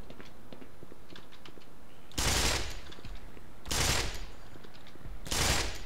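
Three separate bursts of rapid gunfire in the video game Black Mesa crack out at roughly even intervals, each loud and short, over a low background of quieter game sounds.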